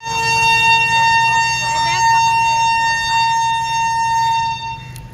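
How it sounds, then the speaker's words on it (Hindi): A long, sustained steady-pitched train horn sounding at Barauni railway station, loud and continuous for several seconds, with a person talking over it. "तो इतना लंबा हॉर्न बजता है क्या?"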